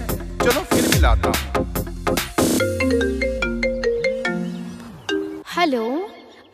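An electronic telephone ring after dialing, built into a Hindi devotional DJ song, plays as a series of bright, repeating warbling tones over the music, loud and up front.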